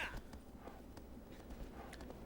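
Horse hooves clopping in the Shadow of the Colossus video game, a faint steady walking rhythm of soft hoof thuds low in a quiet mix.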